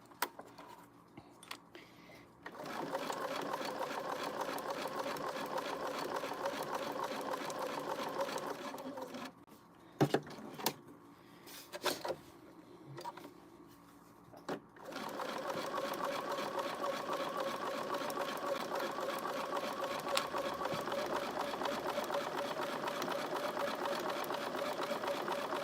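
A home sewing machine runs in long steady stitching bursts, whirring and humming close by, briefly stopping and restarting midway; no one talks during the stitching.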